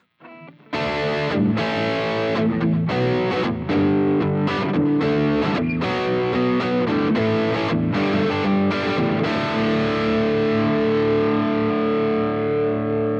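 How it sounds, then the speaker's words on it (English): Heavily overdriven 2022 Epiphone SG Standard electric guitar on the neck pickup through an amp's drive channel, playing loud, sustained distorted chords and riffs alone, with a thick, saturated tone throughout. "it's just a drive channel so you can hear some real overdrive on this thing"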